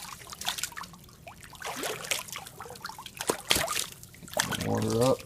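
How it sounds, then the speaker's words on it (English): ALTAI tactical boots with Super Fabric sloshing and splashing in water, producing irregular trickling and liquid churning at close range, with a person talking intermittently over the wet sounds. "Splash around."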